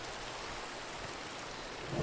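Steady rain falling in Minecraft, a constant even hiss of drops with a soft low rumble, holding at the same level throughout and swelling slightly right at the end, with no voices.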